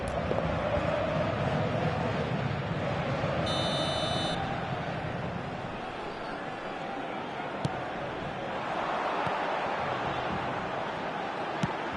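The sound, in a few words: buzzer signalling end of the first half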